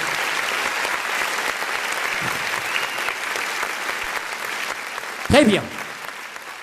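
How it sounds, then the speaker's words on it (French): An audience applauds at a school competition between student teams, a steady broadband clatter of many hands filling the room for several seconds, with a brief voice rising near the end. "Des applaudissements, s'il vous plaît."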